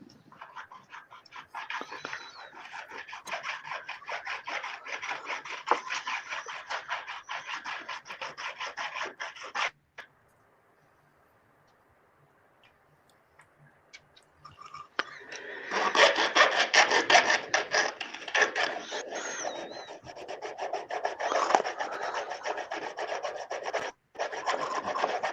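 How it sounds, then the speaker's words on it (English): A plastic model kit part is filed in rapid rasping strokes, close and busy, stopping for a few seconds of near quiet before the scraping starts again more vigorously. "Geez, you're filing there. It sounds like there's major work going on."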